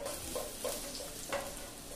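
Vadis shallow-frying in oil after an asafoetida tempering. A low, even sizzle continues throughout, with a few soft stirring taps rising at intervals.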